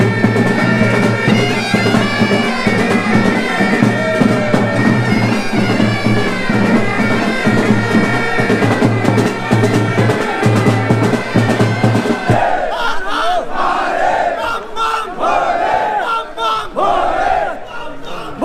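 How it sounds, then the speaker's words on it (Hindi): A dense crowd of pilgrims packs Sonprayag market on the Kedarnath Yatra in 2022, producing a loud, continuous roar of many voices with chant-like, tonal calls rising above it, close and unbroken throughout. "यहाँ पर इतनी ज़्यादा भीड़ हो चुकी है, इतने ज़्यादा श्रद्धालु यहाँ पर हैं कि पूरा का पूरा मार्केट भर चुका है"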